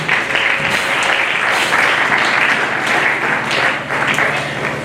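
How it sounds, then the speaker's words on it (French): A church congregation at a special thanksgiving service applauding for the Lord, sustained dense clapping from many hands filling the room, with faint voices mixed in. "Est-ce qu'on peut acclamer pour le Seigneur?"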